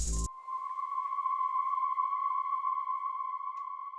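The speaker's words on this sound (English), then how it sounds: "used this Aftermath choir preset" An Aftermath choir preset from Kontakt's Atom Bank holds one sustained, glassy tone with a faint overtone above it, steady and unbroken for several seconds after a brief burst at the start.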